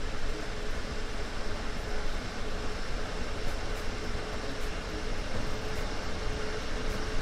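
Continuous even rumble and rolling roar of a train on the Rhein-Ruhr main line in Train Sim, heard close and loud with a faint steady tone running underneath and no voices.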